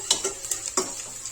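Poha cooks in a kitchen during a birthday get-together, with a spoon scraping and tapping a pan in quick irregular strokes over a faint sizzle.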